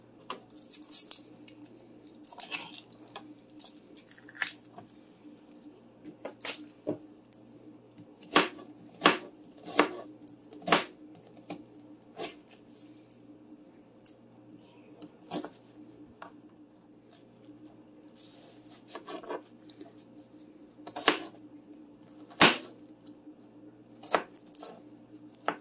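A knife chops onions on a board in a home kitchen, with irregular sharp knocks and light taps spread across the stretch, some in quick bursts, all close and alone without talk.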